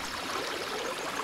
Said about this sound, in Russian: Первым на пути встретился ручей, который быстро бежал вниз по ущелью